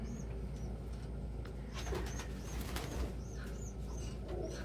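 Male pigeons cooing, several soft rolling coos repeated over a low background hum, fairly close with occasional faint rustles.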